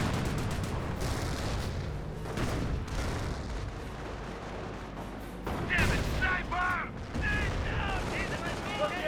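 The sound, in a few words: gunfire in the video game Company of Heroes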